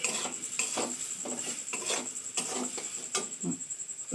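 Semolina halwa with sugar is stirred in a pan, a spoon scraping and knocking against the metal in repeated close, rhythmic strokes over a soft background hiss.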